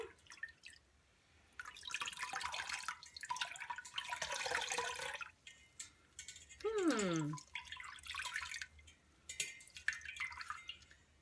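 Water drains and drips from a pan used for dyeing, coming in bursts of trickling and splashing separated by quiet gaps, fairly faint, with a brief voiced sound in between.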